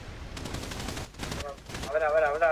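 Heavy gunfire in a video game crackles in rapid bursts at moderate distance, with voices talking over the shooting toward the end.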